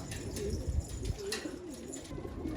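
Old-breed purple Istanbul pigeons coo softly at a distance, a low murmuring under faint background hum, with no wingbeats of release evident.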